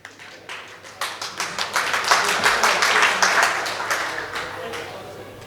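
An audience at an annual association meeting claps to welcome the president onto the stage, a build of sharp, quick hand claps rising into steady applause that holds for several seconds before easing slightly.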